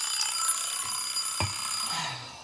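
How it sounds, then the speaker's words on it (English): A 2011 Taylor stainless steel kitchen timer, model T5830, rings its alarm in a steady, fairly loud buzzing tone that runs through the whole moment, close by with no talk. "this other timer has just freaked out on me"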